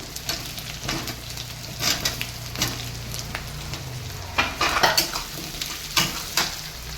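Cumin, onion, dried chili and garlic fry in oil with potatoes added, producing a steady sizzle layered with frequent stirring scrapes and light metallic clinks of a spoon on the pan.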